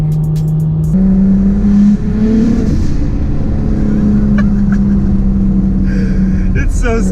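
A single-turbo N54 BMW 335i running 30 psi accelerates hard, its engine droning loud and close from inside the car with rising and steady pitch, while people talk over it.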